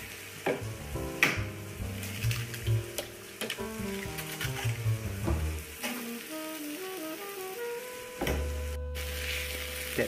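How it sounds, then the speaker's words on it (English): Onions fry and slowly caramelize in a pan with a soft, continuous crackling sizzle and occasional stirring clicks, partly under tuneful background music. "Really cooking them down, letting them caramelize."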